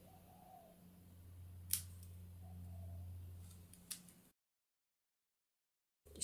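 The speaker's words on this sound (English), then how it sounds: "I'm going to cut that off of there." Scissors snipping a piece off a papercraft Polaroid frame, two short crisp cuts about two seconds apart over a faint low hum, close and quiet, then silence.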